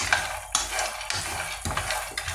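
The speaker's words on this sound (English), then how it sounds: "And while we are frying the groundnut," Groundnuts frying and being stirred in a pan, with a steady sizzle and repeated scraping stirs roughly every half second, close and moderately loud, with no talking.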